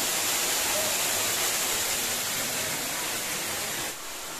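Broad, steady roar of the Buddha (Shilchhara) waterfall in Tripura, heard up close and loud with no talking, easing slightly just before the end.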